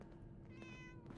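A single short cat meow from the video game Fallout 4, soft and fairly faint over a quiet in-game background.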